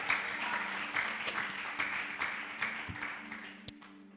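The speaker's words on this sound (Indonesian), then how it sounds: "Boleh kita tepuk tangan buat Tuhan kita." Fairly quiet clapping from a church congregation during a sermon, a thin scattering of hands in an irregular rhythm that fades toward the end.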